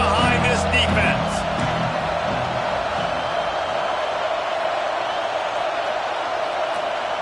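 A football stadium crowd roars steadily behind the defense on a big third down, a dense, sustained wall of cheering that stays loud throughout, with a commentator talking over it at the start.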